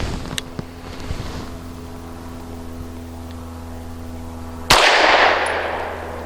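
A Cosaint Arms COS11 pistol fires a single sharp shot at a target outdoors, a loud crack that rings out after several seconds of wind and low ambient noise.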